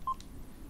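A single short telephone keypad tone, like a dialed digit, beeps in the Wii horror game Calling, clear and brief over faint background noise.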